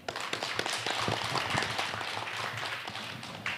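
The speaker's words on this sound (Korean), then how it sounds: "큰 박수를 받으셨습니다" Audience applause at a panel discussion forum, many hands clapping in a dense, steady wash that holds at an even level throughout with no talk over it.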